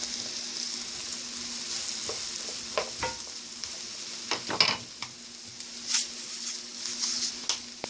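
Onions and mushrooms fry in a pan, a moderate steady sizzle with occasional scrapes and clicks of stirring.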